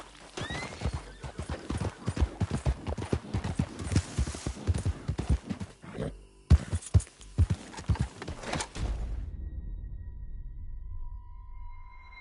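Horse hooves gallop in Red Dead Redemption 2, a fast, loud clip-clop rhythm with a whinny, then it stops abruptly, leaving a quiet tonal hum and low rumble.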